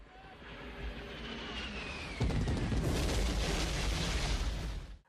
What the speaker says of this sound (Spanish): Esa es una explosión de napalm